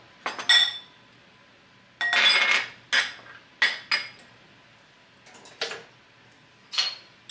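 A utensil clinks repeatedly against a bowl while lemon juice and Dijon mustard are mixed, giving short sharp metallic taps in irregular bursts, close with no talking.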